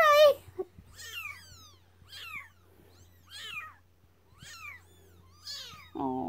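Baby kittens meowing up close, a run of about six high, thin, rising-and-falling mews spaced a second or so apart, loud and clear over a faint low electrical hum, with a brief voice at the end.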